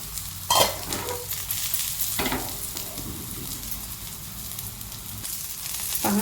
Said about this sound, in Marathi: दोन मिनिटात हे छान असे भाजले जातात